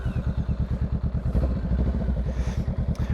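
A 2023 Honda Rebel 500 cruiser motorcycle being ridden, its engine thumping in a rapid, even low pulse close to the rider, with slight wind noise over the top.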